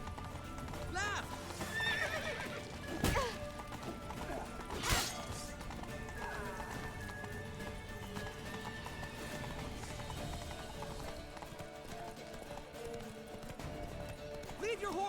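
Horse hooves clip-clopping at a gallop with sharp neighs in The Witcher 3, under loud crashes and shouted dialogue.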